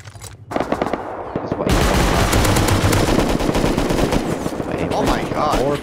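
M2 heavy machine gun and rockets firing in an online survival video game, sounding as rapid, loud bursts of automatic fire that run almost continuously after a brief pause, with a voice briefly heard beneath.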